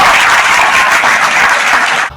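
Loud, dense audience applause at a live comedy show, steady and close for about two seconds before cutting off abruptly, with no talking.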